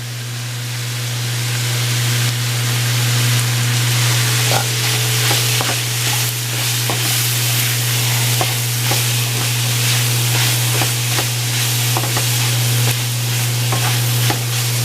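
Garlic and mushrooms frying in oil in a pan, a steady loud broadband sizzle with occasional stirring scrapes and pops, under a constant low hum and no talking.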